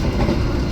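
Steady rumble and rhythmic clatter of wheels on rails heard from aboard the Sembrani express train running from Semarang to Jakarta, loud, close and continuous.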